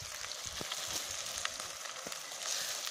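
Roasted country chicken pieces sizzle steadily in a hot pan, a continuous close fry with small crackles and pops scattered throughout.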